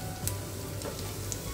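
Chopped onion sautés quietly in a pan, giving a faint, even sizzle with a few soft clicks of stirring.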